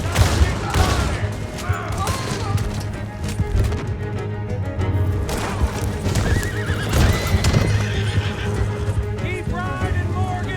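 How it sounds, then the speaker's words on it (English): Horses gallop hard with loud rapid hoofbeats and whinnies in the Red Dead Redemption 2 video game, mixed with bursts of gunfire and a dense action music score, with brief shouted voices. "Keep riding, Morgan!"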